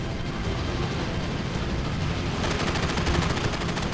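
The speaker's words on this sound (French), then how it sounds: "Flatley et ses hommes font feu à la mitrailleuse sur les autres navires" Rapid machine-gun fire from WWII fighter planes strafing ships near Guadalcanal, a dense, continuous rattling burst that grows sharper and more intense toward the end, with no voices.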